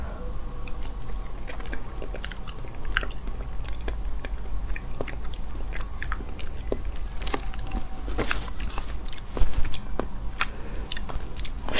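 Close chewing and biting on Chinese food, crisp wet crunches and soft squishes scattered over a steady low background hum, no speech.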